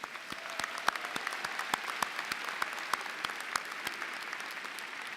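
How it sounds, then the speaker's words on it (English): Graduation audience in a large hall applauds their loved ones, a faint wash of distant clapping with scattered sharper individual claps standing out near the front. "how about a round of applause for your loved ones who are here in the audience today?"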